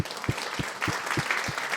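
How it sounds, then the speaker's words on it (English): A small group applauds on a streaming podcast set, brisk clapping with a few distinct, heavier claps punctuating the steady patter, heard briefly. "Let's clap it up for us, boys."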